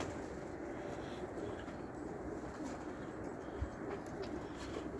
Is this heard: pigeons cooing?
yes